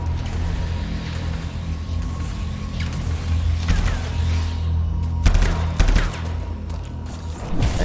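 Gunfire in the video game Anthem, a busy run of shots and impacts over a constant low rumble of game music and ambience, with louder bursts near the middle and end.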